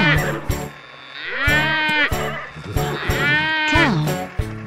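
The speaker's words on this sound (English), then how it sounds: "It's a cow!" A cartoon cow being pulled by a tractor's trailer in a children's song moos in two drawn-out, wavering calls, each rising and falling, punctuated by short knocking clicks.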